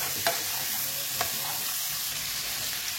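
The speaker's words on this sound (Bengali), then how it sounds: "দিয়ে সবজিটাকে একটু নাড়াচাড়া করে আমি ভেজে নিলাম" Steady sizzling of vegetables frying with turmeric in a pan, with a couple of soft scraping strokes as they're stirred; close and continuous, no voices.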